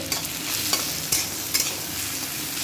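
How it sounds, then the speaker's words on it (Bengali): Onions frying in oil in a pan for a Sunday mutton kosha lunch, giving a steady close sizzle with a few scraping stirs of a spoon across the pan, no voices. "এই যে পেঁয়াজও ভাজা হচ্ছে"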